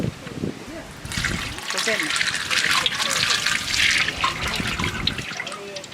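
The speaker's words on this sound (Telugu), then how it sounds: "ఆయిల్ పోసుకుందాం అండి" Cooking oil streams into a large pot set up for a big batch of Ambur chicken biryani, a continuous liquid pour with voices talking over it.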